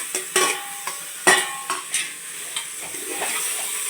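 Ridge gourd stirred and fried in a pan for a liver curry: repeated scraping and clinking strokes of a spatula over a soft, continuous sizzle, close up, with no talking.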